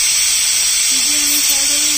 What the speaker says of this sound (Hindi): 3 सीटी आने पर हम इस कुकर की फ्लेम को बंद कर देंगे।